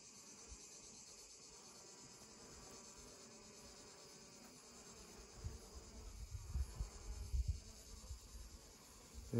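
Honeybees hum steadily at an open hive during a daily check, with drones among them; the dense, even buzz fills the scene, swelling louder and rougher toward the end as something brushes close.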